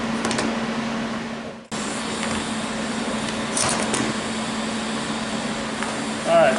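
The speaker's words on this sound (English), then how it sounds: "If we're feeling good about that, we'll go ahead and weld it all the way up." Metal being welded up, a steady close hissing buzz that cuts out briefly early on and then resumes, continuing evenly to the end.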